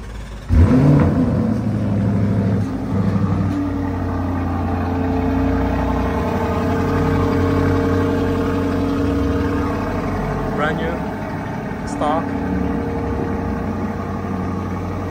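A 2023 Lamborghini Urus Performante with the standard Akrapovic exhaust starts with a loud burst, then settles into a deep, steady idle heard close by, with a few light blips and faint voices near the end.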